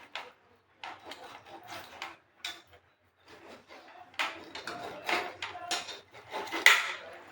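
Knife chopping cleaned raw chicken into pieces in a home kitchen, a run of irregular close-up cuts and taps on a board with short pauses, knocks growing louder toward the end.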